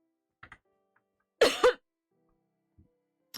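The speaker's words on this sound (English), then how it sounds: "I had a really bad cough." A single person coughs and clears their throat in a short, loud burst, preceded and followed by a few faint small mouth noises in otherwise quiet surroundings.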